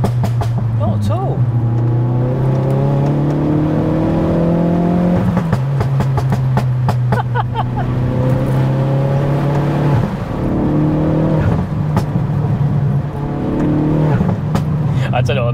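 A 380 BHP Ford Focus ST Mk4 heard from inside the cabin, engine droning loud and steady as it accelerates, pitch climbing through the gears with brief drops at each shift while occupants talk over it.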